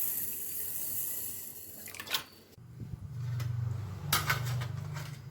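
Water splashes and runs into a bowl of soaking moong dal (split yellow lentils) as it is rinsed, a steady close pour with a brief gap and surges of splashing.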